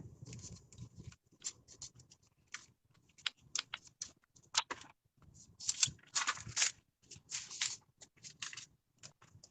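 Someone types on a computer keyboard up close, tapping out irregular bursts of clicky keystrokes with short pauses between them.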